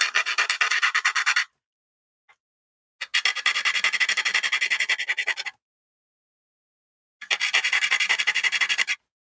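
Three bouts of rapid, rhythmic rasping strokes of sandpaper rubbing a surface, separated by short silences, close and fairly loud.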